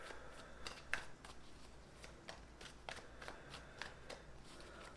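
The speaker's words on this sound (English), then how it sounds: "Let's get 3 shuffles here." A deck of Celtic Tarot cards is shuffled by hand, giving soft repeated riffling and flicking bursts in a quick, uneven rhythm, close and fairly quiet with no talking.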